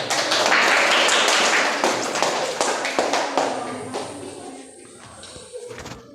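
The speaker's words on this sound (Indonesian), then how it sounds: "Tepuk tangan dulu." A classroom applauds together, with loud dense clapping at the start that thins out into scattered claps and shuffling as it fades.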